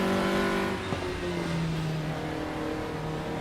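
Race car engine in the RaceRoom racing game holding a steady high-revving drone, its harmonic pitch dipping briefly as a shift hits the rev range, loud and continuous with no talk.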